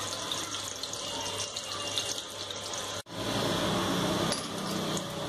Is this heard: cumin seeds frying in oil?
yes